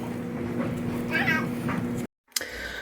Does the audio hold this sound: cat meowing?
yes